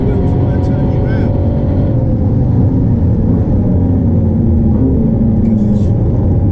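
A Ford GT supercar engine roars loud and close as it accelerates on the road, a continuous heavy drone with slight rises in pitch throughout.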